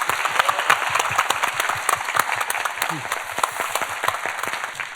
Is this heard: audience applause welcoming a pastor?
yes